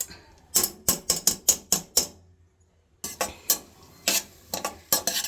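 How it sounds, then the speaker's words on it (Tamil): Soaked moong dal being sautéed in ghee in a small pressure cooker for black kavuni rice pongal, heard as a run of sharp, rhythmic scraping and clacking strokes of a spoon against metal, with a brief pause midway. "விட்டுட்டு இதில் அந்த அரை டம்ளர் பைத்தம்பருப்பு ஊற வச்சுருந்தோம் இல்லையா, அதை போட்டு சும்மா வதக்கிக்கோங்க."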